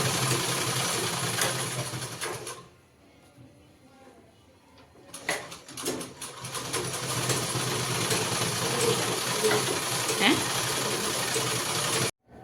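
A home sewing machine stitches a blouse with a steady mechanical whir close by, stopping for a few seconds before starting up again, then running on until it cuts off abruptly near the end.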